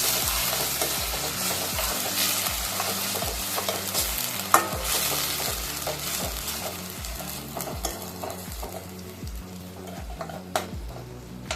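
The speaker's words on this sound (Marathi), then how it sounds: "1 छोटा चम्मच विनेगर आणि चांगलं मिक्स करून घेऊया" Chicken crispy mixture with black pepper and vinegar is stirred in a hot pan, a steady loud sizzle broken by regular rhythmic spoon scrapes and stirs, close up with no talking.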